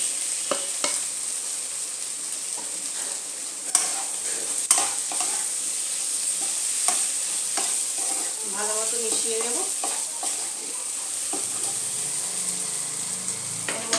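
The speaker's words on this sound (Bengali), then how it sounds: "এর মধ্যে এবারে আমি ভেন্ডিগুলো অ্যাড করে দিচ্ছি" Okra frying in a pan over a low flame, stirred with a utensil: constant close sizzling broken by repeated scraping strokes and knocks against the pan, with no one speaking.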